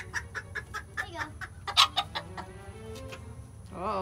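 A small bantam hen clucks repeatedly at close range in a quick, uneven series of short clucks, with one louder squawk in the middle and a brief rising call at the end.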